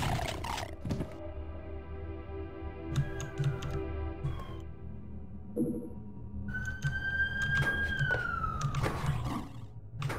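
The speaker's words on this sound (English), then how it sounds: "There's so many sirens today." Emergency sirens wailing outside with rising and falling tones, heard faintly through a room alongside clicking computer keyboard typing while someone plays a game.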